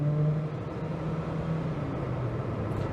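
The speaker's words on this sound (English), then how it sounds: "So your kickdown should make you accelerate." A Nissan Micra with a CVT gearbox pulls steadily under kickdown at around 50 mph, giving a continuous low engine drone with a faint rising whine and road roar, with no voices.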